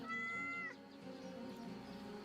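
A cat meows while being petted in a video game, one clear, loud, drawn-out meow at the start, then a softer game background of ambience and music with no talking.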